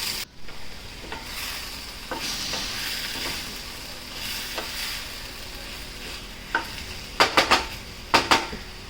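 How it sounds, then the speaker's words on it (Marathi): Dill greens being sautéed in oil in a pan, with a steady low sizzle and scattered stirring scrapes, then a few sharp clinks of a utensil against the pan near the end; no talking. "भाजीला थोडंसं परतून घ्यायचं तेलामध्ये"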